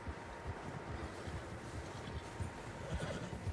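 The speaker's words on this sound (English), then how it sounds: "Horses, quite a few of them." Horses in the Red Dead Redemption video game whinny over soft hoof clops and outdoor wind, a faint, distant-sounding ambience that holds steady without voices.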